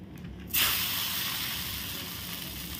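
Thalipeeth flatbread with grated raw potato is laid onto a hot griddle greased with ghee, setting off a sudden loud sizzle that holds as a steady, slowly easing hiss, close and with no talking.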